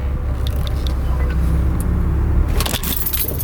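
A Procharged supercharged car creeps up and over a curb, its low engine rumble steady beneath a few light rattles and clunks, with a sharper scraping burst near the end as the body clears the edge.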